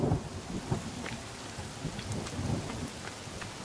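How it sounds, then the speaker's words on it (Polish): Steady rain pours with low rumbles of thunder in the survival video game The Forest, a continuous wash of drops and rolling storm noise with no talking. "No, deszcz zaczyna padać."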